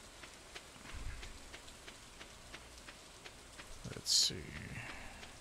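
Steady soft rain falling in the farming game Stardew Valley, a faint continuous patter with a brief louder game sound near the end and a few quiet spoken words.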